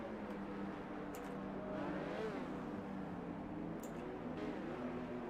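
Racing cars on a PC sim-racing grid at the start of a league race, engines droning and revving together in a steady, faint, continuous roar with no talk.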